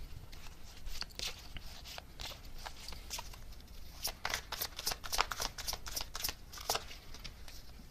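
Tarot cards being shuffled and drawn by hand, a run of crisp riffling bursts that quicken toward the end, close and moderately loud with no voices.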